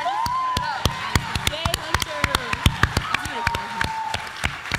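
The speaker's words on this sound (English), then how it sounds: "everybody give Hunter a big round of applause" Audience clapping for a student at a school History Bowl event, a sparse round of individual sharp claps in an uneven rhythm, with voices talking and chattering underneath throughout.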